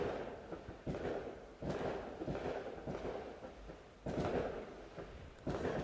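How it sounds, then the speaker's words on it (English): New Year's fireworks go off at a distance as a series of muffled booms and rumbling thuds. The bursts come every second or so, with faint crackle between them. "Unless they're organised fireworks, it is illegal to set them off."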